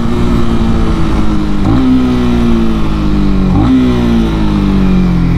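Honda CB300R motorcycle downshifting with throttle blips: a loud, close engine drone broken by two sharp rev spikes about two seconds apart.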